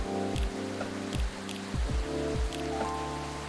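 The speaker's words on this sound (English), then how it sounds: "This rainy season sure is something." Rainfall in the video game Coffee Talk Episode 2, a soft steady patter layered under gentle game music with a few soft percussive thumps, with no voices.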